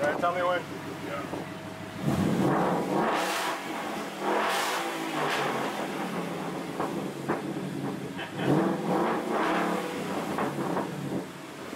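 A 2014 Ford Mustang GT with a muffler delete revs hard several times in short, loud bursts, the V8 rising and dropping close by, with brief talk before and between the revs.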